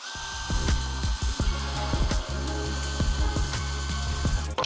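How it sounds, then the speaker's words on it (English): A drill bores pocket holes into wood set in a jig, a close, continuous whirring grind with repeated sharp knocks and thumps as the bit works through the board. "And I'm going to be doing my pocket holes on the longer side of the wood."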